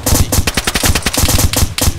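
A PKM machine gun fires in the DayZ video game, a loud, rapid burst of evenly spaced shots running continuously, close and alone with no talk.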